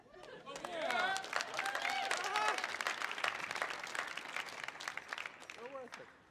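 An audience at a klezmer Hanukkah concert applauds warmly, with cheers and whoops rising over steady clapping and crowd chatter throughout.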